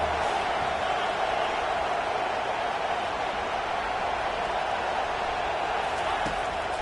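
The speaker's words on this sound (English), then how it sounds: "Decibels rising as the crowd gets behind this defense on 3rd down" Crowd noise at a Minnesota Gophers versus Washington college football game in a stadium, a dense, constant roar from a large audience holding at a loud level throughout.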